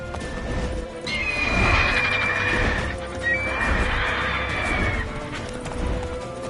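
Roach the horse in The Witcher 3 gives two long, loud whinnies over galloping hooves and clatter, each neigh rising and trailing off.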